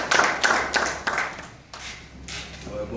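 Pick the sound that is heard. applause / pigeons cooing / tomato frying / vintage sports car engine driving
applause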